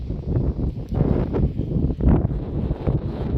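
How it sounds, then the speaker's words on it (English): Gusty wind buffets the microphone outdoors at a car show, with a loud, rumbling roar that surges and dips throughout, with no other clear sounds. "it's a bit windy out here"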